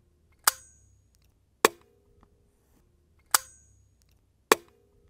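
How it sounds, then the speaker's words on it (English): Four sharp, separate cracks from a .22LR rifle firing subsonic rounds through a Dead Air Mask suppressor, each a quick clap with a short tail, spaced about a second apart, close by and with no talk. "So that is as loud as a suppressed subsonic 22."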